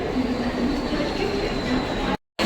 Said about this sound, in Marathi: ट्रेन आली आहे इकडूनच पकडू ट्रेन